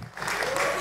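Audience applause at a live stand-up comedy show, rising quickly from a brief lull into a loud, dense wash of clapping that holds steady to the end.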